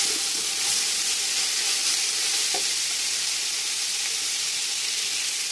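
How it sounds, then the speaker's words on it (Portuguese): Collard green stalks sautéing with calabresa sausage and a splash of water, being stirred for a Minas-style cornmeal soup; a steady close sizzle runs throughout, with faint scraping of the stirring. "Colocar um pouquinho de água e deixar aqui dar uma refogada."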